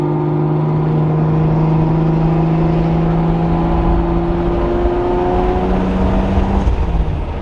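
A car with a 2JZ engine runs close by, a steady, loud droning hum with firm tonal layers and a slight rise near the end, with no voices.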